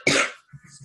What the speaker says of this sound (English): I might be coughing a lot and I am a bit sick.